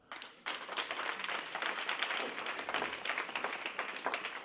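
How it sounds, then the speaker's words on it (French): An audience applauds at a speech honouring Ivorian president Alassane Ouattara, a dense wash of many hands clapping that starts abruptly and stays steady and fairly distant throughout. "Et on peut applaudir cela."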